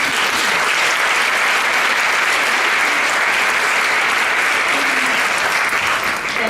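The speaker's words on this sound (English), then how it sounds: "Let's give them a round of applause." An audience at a health reform conference panel gives sustained, loud applause, thick continuous clapping with no speech over it.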